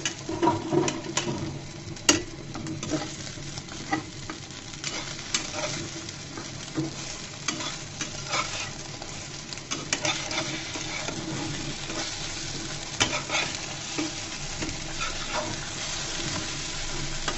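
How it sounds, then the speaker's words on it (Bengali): An egg fries in a pan with a steady, soft sizzle and crackle, broken by frequent light scrapes and taps of a utensil stirring and turning it. "ডিমটাকে সুন্দর করে ভেজে নিব"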